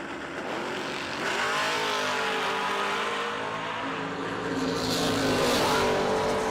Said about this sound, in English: Jason England, 1991 Mustang coming up against the SN95 style Mustang.